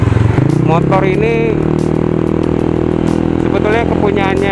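A modified Yamaha X-Ride 2015 automatic motorcycle set up for trail riding runs with a steady, close engine drone from start to finish, while someone talks over it the whole time.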